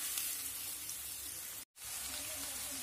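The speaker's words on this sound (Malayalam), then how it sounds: "സവാള ഒന്ന് നന്നായിട്ട് വഴറ്റിയെടുക്കണം." Sliced onion sautés in a pan for a chicken curry, giving a steady close hiss of frying that cuts out briefly before resuming, with no talk.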